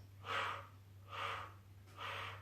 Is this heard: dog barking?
no